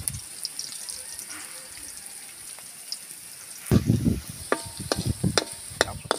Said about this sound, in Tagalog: tapos natin igisa yung ating ingredients